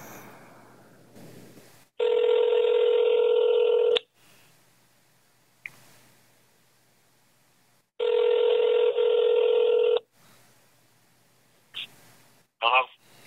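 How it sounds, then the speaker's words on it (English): A telephone rings on speakerphone, two long ringback tones about two seconds each separated by silence, clear and close, followed by brief small clicks and noises. "It's ringing."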